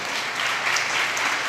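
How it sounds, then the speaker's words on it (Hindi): An audience at a church sermon claps together in a steady, dense burst of applause that holds evenly without pause. "एक बार ताली बजा दो"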